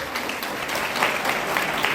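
An audience in an auditorium at a Sant Gadge Jayanti celebration in Jamshedpur claps steadily throughout, a close, dense patter of applause.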